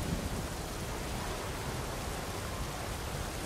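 Steady rain in the video game Uncharted 4: A Thief's End, a constant broadband hiss at an even level with no breaks or voices.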